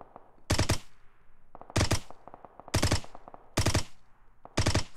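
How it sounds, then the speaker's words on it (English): Bursts of automatic gunfire in PUBG Mobile, five rapid volleys spaced about a second apart, loud and close with a low rumble between them. "Still a ton of gunfire up here."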